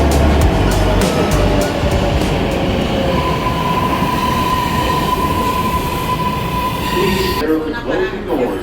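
A New York subway train on line 3 toward Times Square fills the car with loud, steady rumble and wheel roar, with a sustained squeal and rhythmic track clicks, ending in a sharper clatter.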